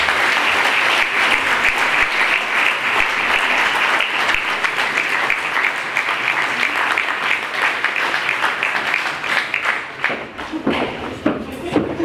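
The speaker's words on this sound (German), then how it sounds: "wir verabschieden Sie erstmal, sind noch nicht ganz entlassen, mit einem großen Applaus von der Bühne." Loud, dense audience applause fills an award ceremony for a village competition, a steady continuous wash of clapping that fades slightly toward the end.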